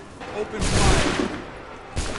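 Gunfire rattles in a fight in Assassin's Creed 3: a sustained burst of loud shots about a second long, then a quieter stretch and a second sharp volley near the end.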